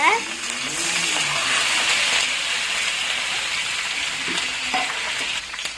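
Six dried red chillies and curry leaves frying in oil with mustard seeds and urad dal for Chettinad rasam, a loud, continuous crackling sizzle throughout, with faint talking underneath.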